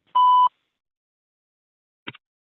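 An automated phone IVR line sounds a single clean electronic beep prompting keypad entry of an answer, followed after a pause by a very brief faint click, with no voices.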